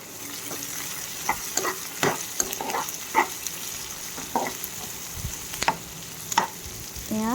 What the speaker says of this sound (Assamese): এয়া পিঁয়াজখিনি ভাজ খাইছে